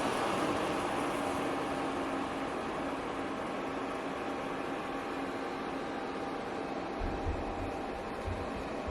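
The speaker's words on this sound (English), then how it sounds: "So that's the sound of the fan." A DBPOWER WiFi projector's cooling fan runs with a steady, soft airy hum and faint tonal whir, constant and close, with a few low bumps near the end.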